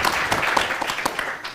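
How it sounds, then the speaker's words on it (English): An audience at a technology conference applauds, a short, dense burst of many hands clapping at close range. "A big round of applause to Chandrababu Naidu garu."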